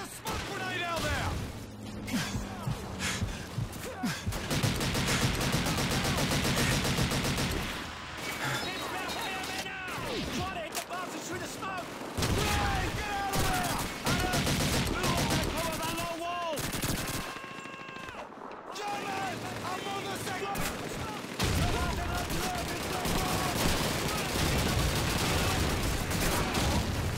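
Rapid British .303 rifle fire and other gunshots in a desert WWII battle at El Alamein in Call of Duty 2, dense repeated cracks and bursts throughout, mixed with battle noise and spoken voices.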